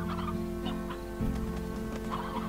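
Chickens cluck in the Slime Rancher video game, with several soft, scattered clucks and calls over a steady hum of game ambience and no speech.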